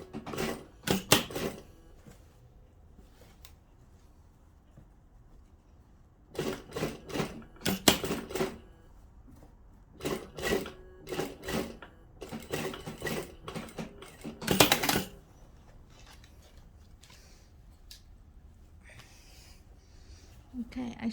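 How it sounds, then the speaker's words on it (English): Sewing machine stitching into a tulle evening dress, heard as several short bursts of rapid mechanical clatter separated by quiet pauses. "I need to sew a little bit on it to keep the gathering stay before I unpick it"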